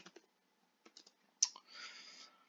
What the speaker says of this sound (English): I shouldn't be typing live.